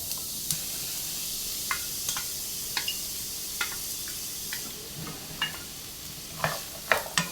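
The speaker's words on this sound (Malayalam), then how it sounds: "നെയ്യ് ചൂടായി, അതിലേക്ക് നമുക്ക് ഈ മത്തങ്ങ ഇട്ടൊന്ന് വഴറ്റിയെടുക്കാം." Pumpkin pieces sauté in hot ghee in a pan, a soft steady sizzle broken by scattered scraping clicks of a spoon stirring, growing busier near the end.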